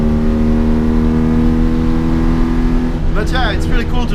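A 1980 Mitsubishi Minica idles with a steady, buzzy tone from its small engine, loud and close, before a voice starts talking over it near the end.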